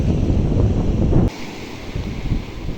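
Gusty wind buffeting the microphone over rushing sea waves at Point Pedro harbour in Jaffna, Sri Lanka, loud at first then dropping to a calmer wash of surf.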